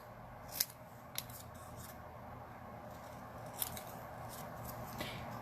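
Paper card being trimmed with scissors: a few quiet, sharp snips spaced irregularly over a soft background hush, close and faint.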